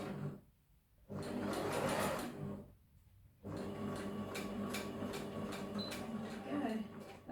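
A sewing machine stitches a dress shoulder seam in short runs, a steady mechanical whirr broken by two brief pauses, close and fairly loud.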